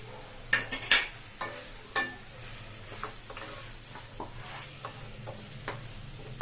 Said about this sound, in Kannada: ಹಾಕ್ಕೊಂಡು ನೀಟಾಗಿ ಫ್ರೈ ಮಾಡ್ಕೊಳ್ಳಿ ಮಟನ್ ಜೊತೆಗೆ